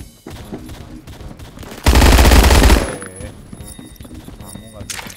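A loud, tight burst of automatic gunfire rips out for about a second in Roblox Phantom Forces, from a PPSh or Obrez, set against quieter shots and clatter, with voices talking nearby.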